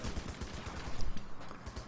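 Continuous machine gun fire in Running with Rifles rattles steadily, a dense stream of rapid shots filling the brief moment without pause.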